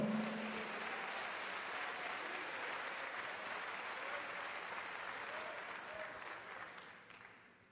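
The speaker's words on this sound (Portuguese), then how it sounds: "Vamos dar um lindo aplauso ao Senhor." A large church congregation applauds steadily during a Sunday service, a dense wash of clapping that holds for several seconds and fades toward the end.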